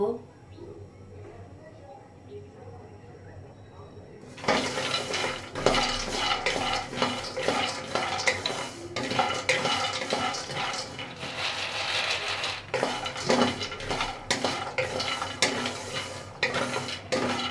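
Peanuts dry-fried in a pan over low heat, stirred with a utensil that scrapes and clatters against the metal in busy bursts, with faint sizzling underneath; a voice talks over it.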